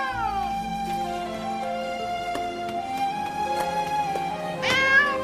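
An animated alley cat meows in a long, wavering, drawn-out cry lasting several seconds, then breaks into a louder, sharply rising yowl near the end. It is close and clear, with no talking.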